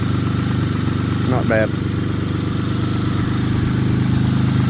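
A Metro car's engine idles steadily after firing right up on a fresh battery, a constant low rumble throughout with a brief spoken remark over it.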